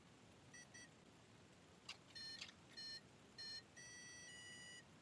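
Electronic speed controller on a 30mm EDF jet unit chirping on power-up with a 3S battery, a string of short, faint high electronic beeps, some paired, ending in one longer tone, with quiet hiss between.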